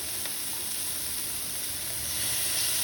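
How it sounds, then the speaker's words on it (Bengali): Shrimp and garlic frying in a pan with oil, giving a steady, close sizzle and hiss that holds constant and swells slightly toward the end, with no talking over it. "চিংড়ি মাছটা প্রায় ভাজা হয়ে এসেছে, এখন আমি একটু রসুন দিয়ে ভেজে নেব"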